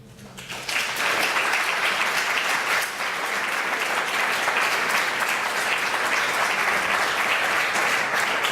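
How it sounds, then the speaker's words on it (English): An audience breaks into applause at a talk on institutionalising national evaluations, the clapping swelling in after a quiet start and holding as a loud, even wash of many hands for several seconds. "ask you to give a big applause to 3A"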